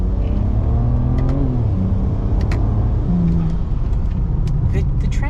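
A BMW N54-engined Alpina revs in quick blips while rev-matching on downshifts, the engine note rising and falling close by over a steady road rumble, with someone talking throughout.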